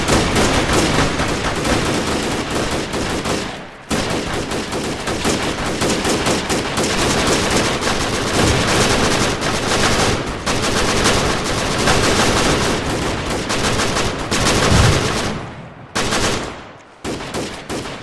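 Sustained, loud bursts of automatic and single-shot gunfire from a squad in a multiplayer military video game, dense and continuous with brief gaps near the end.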